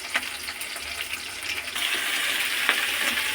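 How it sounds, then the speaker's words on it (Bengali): Chopped onions sizzle in hot oil with dried chilli and bay leaf in a pan, a steady close crackling hiss that swells louder partway through, with no voices. "এবার পেঁয়াজ দেবো, কাটা পেঁয়াজ দিলাম"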